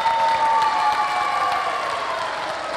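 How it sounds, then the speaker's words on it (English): A crowd applauds steadily at a church vacation Bible school closing program, a dense wash of clapping with some cheering, fading slightly toward the end. "Let's give them one more round of applause."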